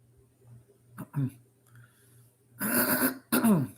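A person clears their throat and coughs close by, a couple of short rasps followed by two louder, harsher coughs over a low hum.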